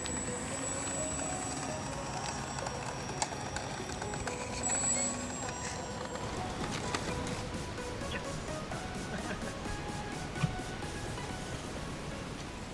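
A small radio-controlled beginner trainer airplane, the Mini Apprentice S, taxis on the ground with a little throttle, its electric motor giving a thin whine that rises and falls over faint background noise, with no voices present.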